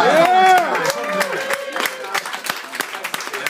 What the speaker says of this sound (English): Clap up for Mike Lawrence